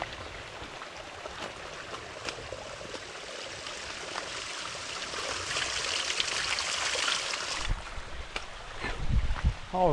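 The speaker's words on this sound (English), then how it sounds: "We'll come up on a waterfall, a little waterfall." A small waterfall runs beside a woodland trail, its steady rushing water swelling gradually louder as it is approached, with light wind buffeting and a few footsteps or knocks near the end.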